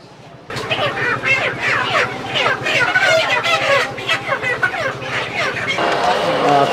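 Chickens clucking and squawking in a busy poultry shop selling broiler and layer birds, close and continuous, under people talking nearby.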